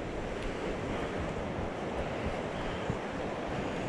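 A river flows beside a foothills trail, a dense, steady rushing wash of water heard up close with no breaks and no talking.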